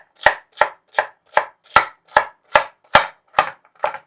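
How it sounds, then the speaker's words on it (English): A sharpened kitchen knife chops food into little squares for tuna salad, making about ten crisp, evenly spaced strikes on a cutting board, close and loud with nothing else audible. "Okay, chopped up into like little squares"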